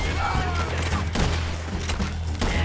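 Gunfire in Red Dead Redemption 2 amid a busy fight, several sharp shots at irregular intervals over a steady rumble of game noise, with a voice talking.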